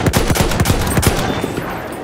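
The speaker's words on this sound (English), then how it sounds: "Enemy machine gun!" Machine gun fire in the video game Battlefield 1, a fast burst of evenly spaced shots hammering out for about a second, close and loud, then trailing into rumbling battlefield ambience.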